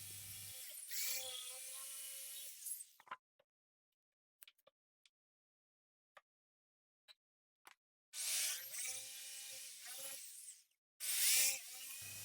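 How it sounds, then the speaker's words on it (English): A jigsaw cuts through two clamped fence picket arm pieces at once in loud, harsh buzzing bursts, with a long quiet gap between the first run and two later ones. "use a jigsaw to cut them both out at the same time"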